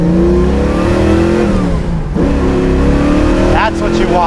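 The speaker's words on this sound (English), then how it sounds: "What do people love to do with a muscle car? They love to rev it up." A 1967 Ford Mustang muscle car engine revs hard, a loud, close, rumbling roar that dips briefly midway then climbs again with rising pitch near the end.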